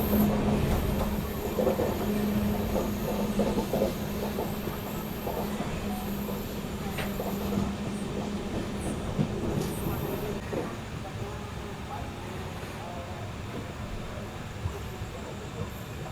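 The 12750 Bidar Machilipatnam SF Express rolls along at speed, a continuous rumble of wheels on rail with rhythmic clacks and occasional squeals, heard steadily up close.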